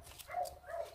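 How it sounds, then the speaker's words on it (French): Dogs bark outdoors in a small village on a fine day, two short muffled barks heard at a distance, fairly faint against the open air. "Vous entendez les chiens."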